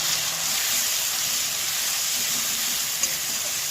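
Coarsely ground green peas hit hot oil in a kadai already holding cardamom and whole cumin, raising a steady, moderately loud hiss and sizzle that holds without a break.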